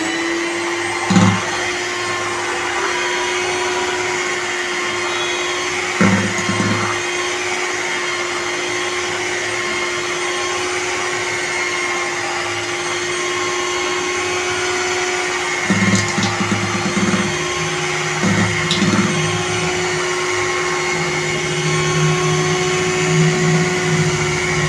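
An electric mixer whirs steadily, beating chocolate cake batter with oil in a tone that holds constant over several seconds, broken by a few brief knocks and shifts in load.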